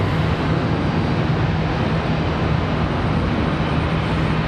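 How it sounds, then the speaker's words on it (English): Boeing 777 from Miami taxiing along an airport taxiway at Charlotte Douglas, a steady loud broadband jet roar with a constant low hum throughout. "As we watch the 777 from Miami make its way"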